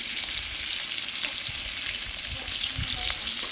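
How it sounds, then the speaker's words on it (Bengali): Potatoes frying in hot oil with salt and turmeric, a steady dense sizzle running throughout with faint stirring scrapes and small pops, close and continuous. "লবণ হলুদ দিয়ে একটু ভেজে নেবো আলুটা।"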